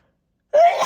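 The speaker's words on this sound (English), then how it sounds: "Oh, excuse me, I'm going to sneeze." A single sudden sneeze-like burst of breath and voice erupts after half a second of silence, close and fairly loud.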